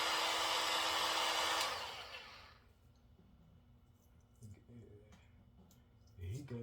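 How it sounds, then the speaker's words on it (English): A heat gun blows hot air at a thin sticker, a loud steady rush for under two seconds that then shuts off, leaving faint clicks and handling noises afterward. "The heat gun gets hot."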